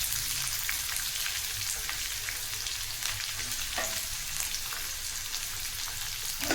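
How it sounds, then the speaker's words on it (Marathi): Sliced onion frying in hot oil until golden brown, a steady dense sizzle and crackle running the whole time with a few brief stirring scrapes, close and fairly loud, no voices. "गोल्डन ब्राऊन होईपर्यंत तेलात हे करायचं आहे फ्राय. तर कांदा टाकून घ्यायचा आहे."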